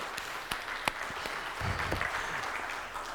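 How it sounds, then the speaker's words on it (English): Church congregation breaks into applause, a fairly soft spread of clapping with a few sharper individual claps standing out near the start and a low rumble of crowd noise swelling in the middle. "I want you guys to just go ahead and give yourselves a round of applause."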